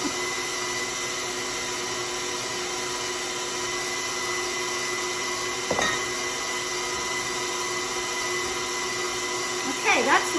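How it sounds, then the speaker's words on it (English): Electric mixer whirs steadily while mixing oatmeal cookie dough with all-purpose flour, a continuous even hum with a couple of brief bumps near the end. "So now I'm going to stop my mixer."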